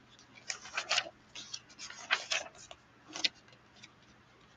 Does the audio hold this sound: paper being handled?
yes